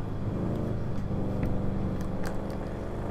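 Car engine revving in Grand Theft Auto V, a steady loud in-game engine drone with continuous throttle running throughout, no voices over it.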